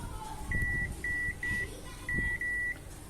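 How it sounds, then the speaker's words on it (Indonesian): A multimeter in buzzer continuity mode beeps as its probes touch the pins of a laptop touchpad flex cable: five short, clear electronic tones, some back to back, over quiet handling noise. "Kita menggunakan mode buzzer di sini."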